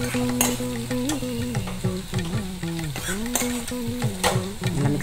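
Rice mixed with tamarind paste for puliyodharai, stirred in a pan with steady scraping and soft sizzle throughout, a voice talking over the cooking sounds.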